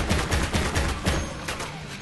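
A big gun in the video game Disney Infinity fires in rapid repeated bursts, loud and close, with no talk over it.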